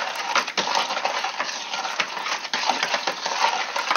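A spoon stirs sugar into alcohol for crémasse, giving continuous close scraping and clinking against the container with small irregular knocks.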